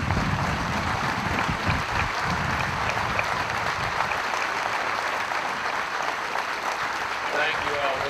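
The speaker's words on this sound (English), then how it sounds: "let's give them a round of applause" A large audience at a Hall of Fame induction ceremony applauds past inductees, sustained dense clapping heard throughout at an even, fairly loud level, with crowd noise blended in.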